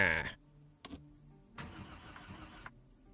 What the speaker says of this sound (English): No gas, engine shot.